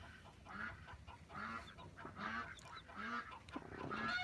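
Hungry ducks call loudly and repeatedly in honking, quacking bursts, several overlapping calls close by, with no talk.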